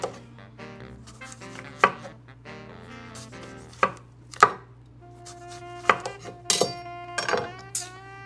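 A knife chops cucumbers into thin pickle slices on a board, giving sharp, irregular close knocks with short pauses and a faint low hum underneath.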